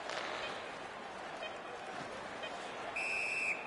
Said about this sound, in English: And this play is whistled down